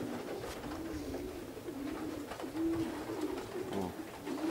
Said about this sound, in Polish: Z kierunku tego gołębie przyszły, Tomasz?